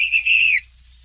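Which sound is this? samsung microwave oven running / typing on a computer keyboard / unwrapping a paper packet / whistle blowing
whistle blowing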